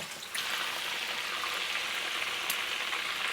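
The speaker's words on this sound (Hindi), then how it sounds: "बैंगन मैंने फ्राई कर लिया" Eggplant slices sizzle in hot oil in a pan, a steady broadband hiss that stays even and continuous throughout with no talking.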